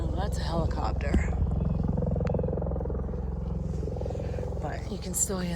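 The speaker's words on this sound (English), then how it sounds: "Oh, that's a helicopter." A low, pulsing drone like a helicopter thrums throughout, with people talking over it up close.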